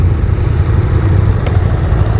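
A 2017 KTM 690 Duke single-cylinder motorcycle idles nearby with a steady, low, even engine rumble throughout, loud and close with no voices over it.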